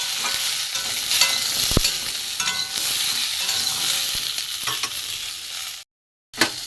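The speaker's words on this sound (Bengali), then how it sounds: "আলুটাও ভাজবো, আলু পটল একসাথে ভেজে নেবো।" Potatoes and pointed gourd sizzle steadily in hot oil, with occasional scrapes of stirring and a brief silent break near the end.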